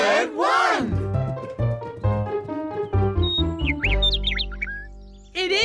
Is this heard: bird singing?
yes